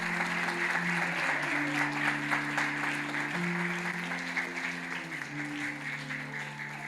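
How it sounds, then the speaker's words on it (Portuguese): A church congregation at a youth congress in Fortaleza claps steadily. The applause is dense and continuous, with a faint sustained keyboard tone underneath, then eases off slightly toward the end. "Pode dar uma salva de palmas, não tem problema."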